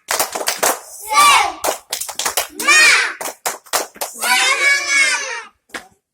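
Children clap along in a rhythmic clapping chant, sharp hand claps coming in rapid bursts between loud shouted and sung phrases, close and energetic.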